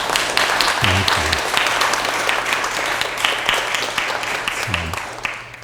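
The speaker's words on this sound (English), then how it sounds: "So we can have another round of applause for them." At a congregation's annual meeting, a room full of people applauds with loud, sustained clapping that eases slightly toward the end. Brief low voices murmur underneath at two points.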